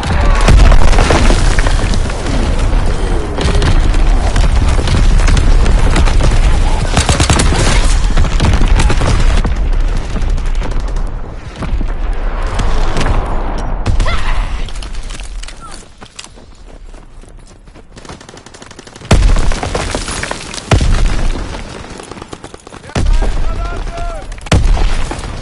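Incoming enemy artillery in Call of Duty: WWII crashes down in a dense, loud wall of booms and battlefield gunfire that thins briefly midway before more heavy blasts hit.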